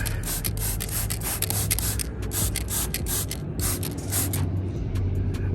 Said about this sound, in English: when you spray it with some type of pre-spray like that